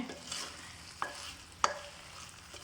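Curry made with ash gourd being stirred in a pan, a low simmering sizzle with a couple of sharp utensil scrapes and taps against the pan.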